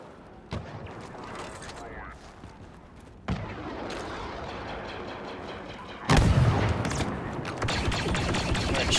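Blaster gunfire and explosive booms in the shooter game Star Wars Battlefront 2, with sudden loud bursts at irregular moments over a busy battle din and a voice speaking intermittently.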